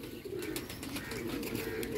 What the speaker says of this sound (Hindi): ये इंडियन कबूतर है जी